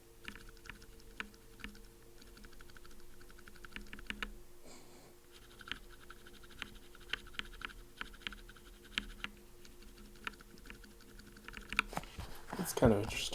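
Close, quiet typing on a mechanical keyboard with UHMWPE switch stems, a continuous run of soft keystrokes with a slight swish, ending in a brief louder clatter.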